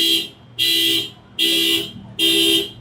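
A parked car's alarm sounds in the PIK area of Jakarta, blaring loud and close in four regular repeating pulses with short gaps between them.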